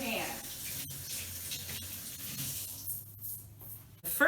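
Water runs from a kitchen tap during handwashing, a steady splashing gush with small clicks and knocks, ending with a sudden louder burst.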